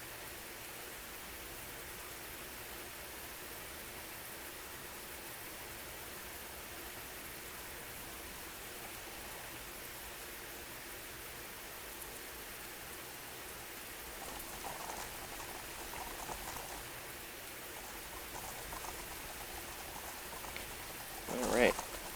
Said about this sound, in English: Alright, another rainy day in Pittsburgh.